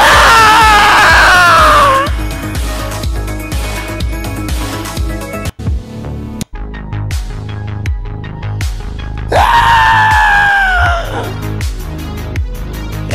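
Loud, harsh human screaming bursts out at the start and again later, set over a heavy throbbing musical backdrop with pulsing beats and a brief dropout in between.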